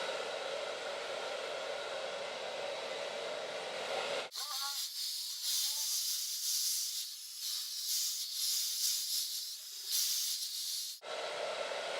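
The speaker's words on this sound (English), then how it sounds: "you want to pick your hair up by the root, up, and blow dry into your root" A hair dryer blows steadily as hair is dried at the roots for beachy waves, a loud continuous airy rush that cuts out briefly in the middle while softer whooshing and handling noises carry on, then returns at full strength.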